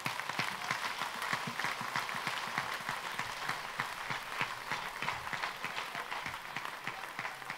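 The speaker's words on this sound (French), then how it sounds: "On acclame notre Dieu. Acclamons notre Dieu." A congregation at a prayer vigil in Savigny-le-Temple applauds and acclaims God, with dense, steady rhythmic clapping running throughout under a faint wash of crowd voices.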